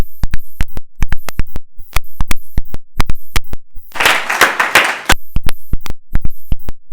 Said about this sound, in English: Can I ask you all to give our panellists a warm round of applause?